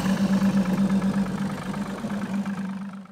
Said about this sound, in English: With testing ready to begin, we're going to start the motor and let it warm up.